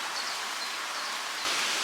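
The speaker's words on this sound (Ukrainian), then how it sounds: "І як бачите, ще й дощ іде." Steady hiss of rain falling outdoors, a constant wash of noise that grows slightly louder near the end.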